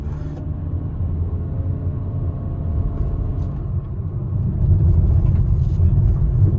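Inside a moving Honda Elevate, a steady low engine hum and road rumble drone on, growing a little louder toward the end, with no talk over it.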